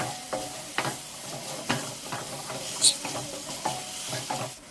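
Radish sizzles steadily in a pan with ginger-garlic paste while a spoon stirs and scrapes in repeated strokes, close up, with no voices.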